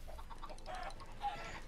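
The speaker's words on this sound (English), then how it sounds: "Can we get rid of the fucking chickens, please?" Chickens clucking in the Minecraft video game, several short clucks scattered over a steady background bed, moderately loud with no talking.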